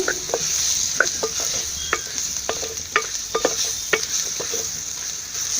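Sambar powder is stirred into vegetables frying in a pan for a cowpea and bottle gourd sambar, with a steady close sizzle broken by repeated scraping strokes of a spoon against the pan, and no talking.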